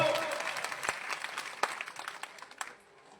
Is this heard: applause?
yes